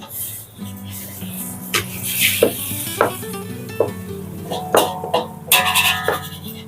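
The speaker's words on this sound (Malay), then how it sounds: "Pak suami goreng telur" An egg sizzles in a hot frying pan with a steady crackle, broken by several sharp scrapes and taps of a utensil against the pan, up close.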